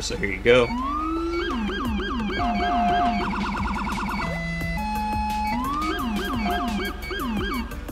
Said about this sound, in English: So that is the siren.